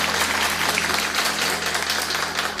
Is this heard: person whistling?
no